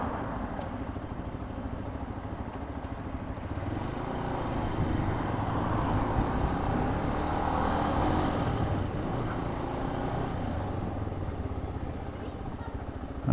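A Benelli 125 BN motorcycle is ridden through Cardiff streets, its small engine droning steadily under heavy wind rush and road noise, with the pitch rising and falling gently as it cruises along.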